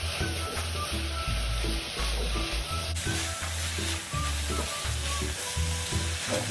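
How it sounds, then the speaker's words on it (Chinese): Sweet coconut filling with cut pandan leaves being stir-fried in a pan for kuih kochi: a constant, close crackling sizzle with regular scraping stirs, and no voices. "再继续拌炒。"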